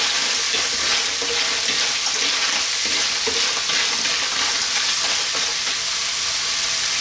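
Clams and fish sauce stirred in a hot pan, a steady loud sizzle with scraping stirs running throughout, no voices.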